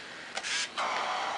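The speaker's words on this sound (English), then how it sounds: "I looked in and I saw the shutter work." Yashica T4 Super D compact film camera firing after its self-timer countdown, giving two short, quiet mechanical whirring bursts of the lens and shutter motor, heard close and alone.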